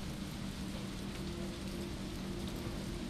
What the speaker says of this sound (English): Damn, it's rainy as fuck, boy.